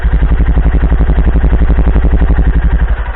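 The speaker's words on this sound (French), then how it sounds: "Donc voilà le bruit au ralenti." Up close, a motorcycle engine idles with a steady, low, rapid chugging pulse that stays loud and even throughout.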